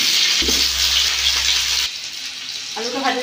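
Cut potatoes with a little turmeric sizzle steadily as they fry in oil in a pan, a continuous close hiss with a brief stirring shift partway through.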